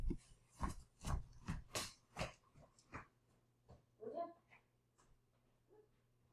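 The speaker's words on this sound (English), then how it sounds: "My dog's barking." A dog barks several times in quick succession nearby, faint sharp barks followed by a few softer whimpering yips.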